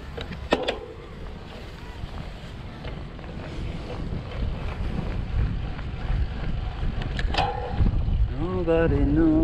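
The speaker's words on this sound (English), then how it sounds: "Going against the wind." Wind blowing hard against a rider along the Maribyrnong River trail, a steady rough rush of buffeting wind noise at the microphone, with brief knocks and a voice near the end.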